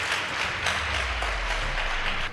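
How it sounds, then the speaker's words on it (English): A school debate audience gives a round of applause to the competing teams. Dense, steady clapping carries on at an even level throughout, with no voices on top. "Please give them a round of applause."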